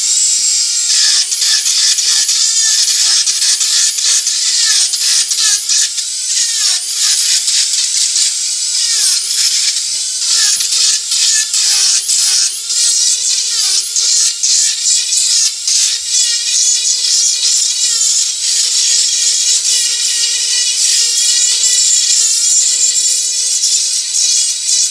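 A Dremel 4000 rotary tool carves away wood below the nose of a beginner's wood spirit carving, a continuous high-pitched whine that rises and falls in pitch as the bit bites and eases, loud and close with no talking.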